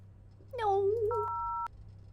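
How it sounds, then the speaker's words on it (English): Touch-tone dialing beeps from a payphone in a video game, a short run of closely spaced tones ending in one held dual tone, heard clearly with little else around them. "I'm gonna call the one right by us."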